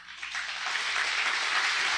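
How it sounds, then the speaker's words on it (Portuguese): A church congregation applauds together, a steady, dense wash of hand clapping that swells in the first moments and then holds at an even level, with no voices standing out. "Aplauda bem forte ao Senhor."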